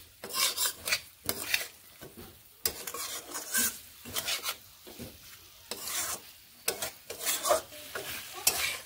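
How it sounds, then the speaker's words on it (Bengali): Fried drumsticks and potatoes sautéed with spices in a pan, repeated rhythmic scraping stir strokes over a light sizzle, each stroke distinct and close. "মশলার সঙ্গে সজনে ডাঁটা ও আলুগুলোকেও বেশ ভালোভাবে এইভাবে কষিয়ে নেব।"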